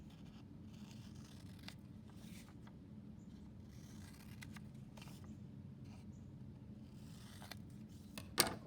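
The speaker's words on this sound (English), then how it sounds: "And now we'll just cut it apart." Scissors cut apart paper in a quiet room, soft intermittent snips and rustles over a low steady hum, with one sharper closer snip right at the end.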